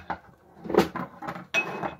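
Dishes and utensils clink and knock close by as linguine with bay scallops is plated, a few sharp taps and scrapes spaced unevenly over a quiet kitchen.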